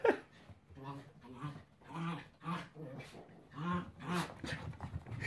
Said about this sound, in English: The vocal range that these dogs have.